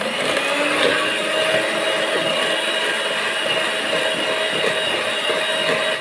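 An electric hand mixer whirs steadily as it beats eggs, sugar and oil for an orange cake, a continuous high-pitched motor whine with no talk.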